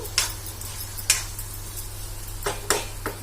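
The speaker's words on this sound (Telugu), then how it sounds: "దొండకాయ ముక్కలు అయితే నేను మధ్య మధ్యలో కలుపుకుంటే ఇట్లా మగ్గించుకుంటున్నాను అనమాట" Ivy gourd pieces soften in a pan for a fenugreek-spiced curry, with a low sizzle under a handful of metallic scrapes and clinks as a spoon stirs them now and then.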